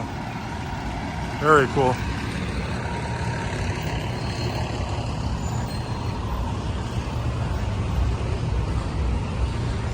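Fire truck idling on Ocean Drive in South Beach, a low steady engine rumble with a brief air-brake hiss, heard up close from the sidewalk while someone talks briefly.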